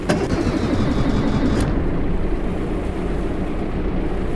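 In the game Stormworks, a multipurpose vessel's ship engine cranks and catches, then settles into a loud, steady low rumble close by, with no voices.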